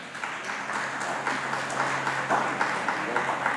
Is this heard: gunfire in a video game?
no